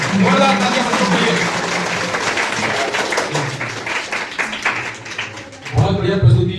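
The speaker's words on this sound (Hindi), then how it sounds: "बहुत बढ़िया, जोरदार तालियां बच्चों के लिए।" A school audience at a Teachers' Day function applauds a children's performance with steady clapping that runs for several seconds. Voices mix in, and the clapping fades briefly before another loud burst near the end.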